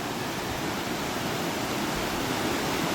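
Waterfall at Tat Ton National Park pouring down from above, heard from a suspension bridge midway along the falls as a dense, steady roar of rushing water, loud and unbroken.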